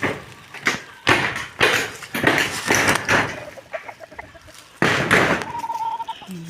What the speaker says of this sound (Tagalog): Daming mga manok na nakatambang.